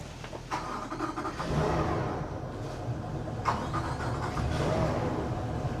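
Twin Honda BF350 V8 outboard engines on a boat at a dock start up and settle into a steady, quiet idling rumble, with a couple of brief louder bursts along the way.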